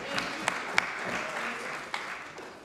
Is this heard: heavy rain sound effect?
no